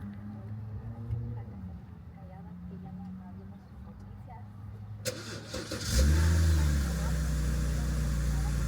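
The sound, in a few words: car engine revving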